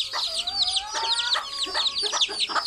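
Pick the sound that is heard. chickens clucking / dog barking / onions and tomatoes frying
chickens clucking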